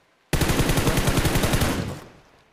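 Gunfire in the mobile shooter game PUBG Mobile: a sudden loud, close burst of rapid evenly spaced shots lasting under two seconds, then a fading tail.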